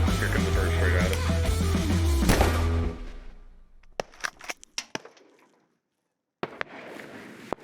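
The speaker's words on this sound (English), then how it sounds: "So much gunfire." Several sharp shotgun cracks pop in quick succession while bird hunting, after a burst of loud wind-like noise, followed by a brief silence and another shot.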